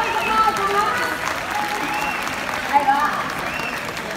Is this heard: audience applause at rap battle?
yes